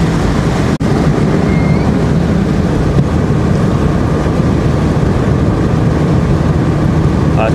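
Steady roaring wind buffeting from a car driving at speed with the windows down, picked up by a wireless microphone wearing a furry windscreen; a dense, continuous rush with one brief knock near the start.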